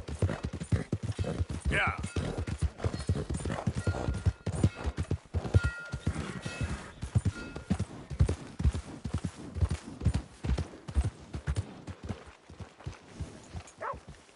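Horse hooves clip-clop steadily in a PS4 video game, a rhythmic series of close hoofbeats under game music and ambience, with a brief spoken reply.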